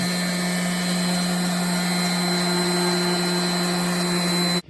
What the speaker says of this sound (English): now I'm sanding out the old paint.